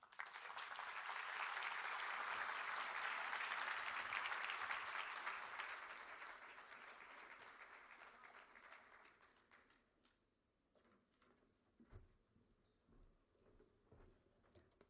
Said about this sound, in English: let's give Maureen another round of applause